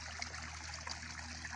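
A small garden pond waterfall, with water filtering through the cascade, trickles and splashes softly and steadily at close range, faint and continuous, with no voices.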